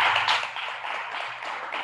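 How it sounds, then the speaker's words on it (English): Brief light clapping from a small group at a Christian worship gathering linked to Pakistan, a quick patter of hand claps lasting under two seconds over a low steady hum. "Clapping."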